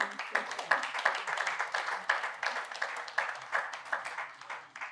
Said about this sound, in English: Thank you for your rounds of applause